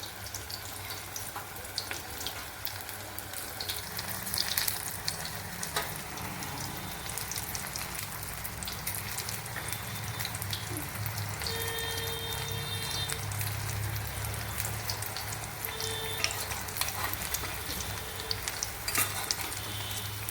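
Cucumber pakoras fry in hot oil in a home kitchen, a steady bubbling sizzle that runs unbroken close up, with scattered light clinks and small knocks as the fritters are turned.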